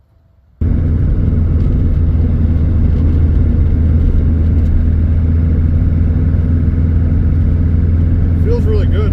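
A race car engine starts abruptly into a loud, steady close rumble from inside the cockpit at a Road America track session, holding constant with faint rattles and a voice beneath.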